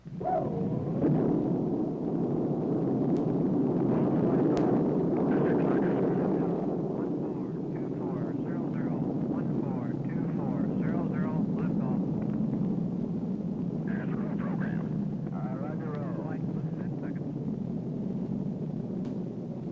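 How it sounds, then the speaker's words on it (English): A Gemini spacecraft, Molly Brown, lifts off on its rocket with a long, broad roar that swells, holds and slowly fades, while a narrator talks over it. "crew launched the Molly Brown spacecraft on its three-orbit flight"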